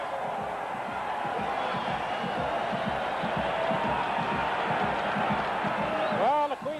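Queen's Golden Gaels football fans at the 1983 Vanier Cup against Calgary, a large stadium crowd roaring and cheering steadily throughout, with rhythmic clapping and whoops rising near the end.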